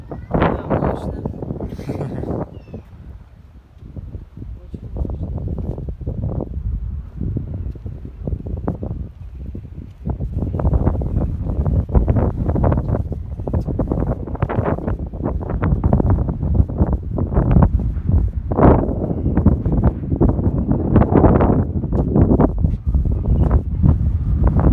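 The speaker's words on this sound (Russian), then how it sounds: "Ветерок дует, вот так как сейчас лето, поэтому теплый ветерок." Warm summer wind gusts outdoors at the Roman amphitheatre in Nîmes, France, a loud buffeting rush across the microphone that swells and drops continuously for the whole stretch.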